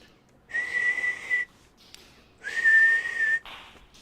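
A shrill little whistle is blown twice, each blast lasting about a second, loud and close with a pause between.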